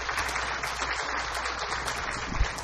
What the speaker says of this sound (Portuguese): Saudar aqui o ex-prefeito Sérgio Salvani, que eu peço uma salva de palmas.